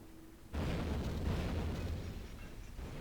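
A sudden deep boom from a torpedo striking a ship in Silent Hunter 3, erupting loudly after a short quiet and rumbling on for a couple of seconds without speech.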